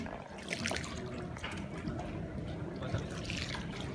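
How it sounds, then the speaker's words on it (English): Water lapping and trickling around a gondola gliding along a Venice canal, a steady close wash of liquid sounds that continues without pause and without speech. "The gondola ride continues."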